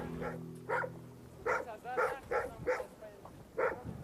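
A dog during a military search operation barks repeatedly in short, evenly spaced bursts, fairly close and loud, over a low background hum.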